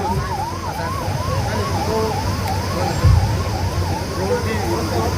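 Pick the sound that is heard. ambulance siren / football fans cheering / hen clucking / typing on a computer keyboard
ambulance siren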